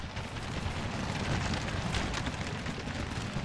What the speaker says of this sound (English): we got this unit right here, kind of under fire from artillery this unit as well